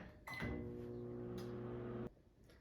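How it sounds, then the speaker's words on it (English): A microwave oven heats a bowl of egg mixture for scrambled eggs, giving a steady, loud hum with a tonal drone that runs for about two seconds and then stops abruptly, with no talking. "I will microwave it for 30 seconds"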